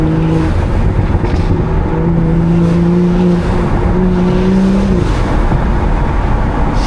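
Intake roar of a 500 WHP BMW B58 engine fills the cabin, loud and constant with a droning tone that shifts in pitch, alone without speech.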